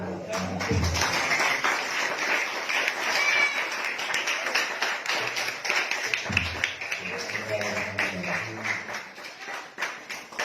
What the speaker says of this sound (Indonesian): Coba tepuk tangannya dulu.